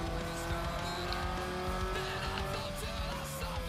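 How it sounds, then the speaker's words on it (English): In the racing game Need for Speed Underground 2, a race car engine drones steadily at high revs with tire squeal and skidding over it, a continuous loud roar throughout. "I'll just dump the nitrous into my engine and go 170 miles an hour"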